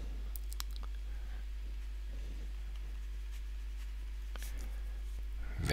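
Pen or marker scratching out a footballer's surname for a headline, a light run of small strokes and taps over a steady low hum, fairly close, with no voice.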